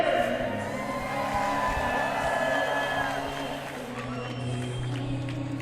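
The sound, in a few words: crowd cheering at a bare knuckle fight event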